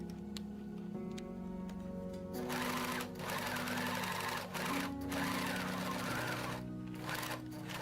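A sewing machine stitches the sleeve of a Ghost Face Halloween robe, running steadily and close with a dense mechanical whir and rapid ticking that shifts pace slightly, with no talking.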